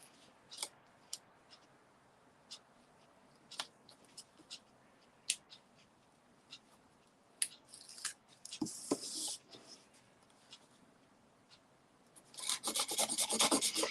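Craft tape torn off a roll and pressed down onto an embossed Christmas card, with scattered soft ticks and rustles, a brief stretch of rubbing, then a loud sustained tearing rasp at the end, close up.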